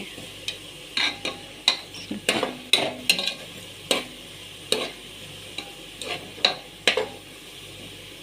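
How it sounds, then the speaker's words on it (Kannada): Onions frying in a pan while ghee rice is being cooked, with a steady low sizzle broken by repeated sharp scraping and stirring strokes of a utensil against the pan, fairly close and with no voices. "ಈಗ ಚೆನ್ನಾಗಿ ಬೆಂದಿದೆ ಈರುಳ್ಳಿ ಇಷ್ಟು ಬಂದಾಗ ತೆಗೆದಿಟ್ಕೋಬೇಕು"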